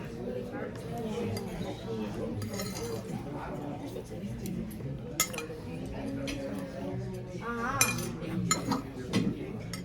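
Plates and cutlery clink and scrape as dishes are swapped at a restaurant table in Sanford, Milwaukee, with intermittent sharp clinks over steady talk and dining-room chatter.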